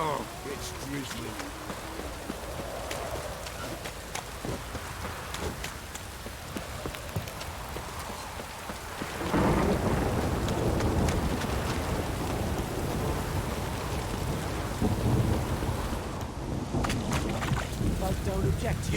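Steady drizzling rain in The Witcher 3 video game gives a continuous hiss that swells louder partway through, with someone talking over it.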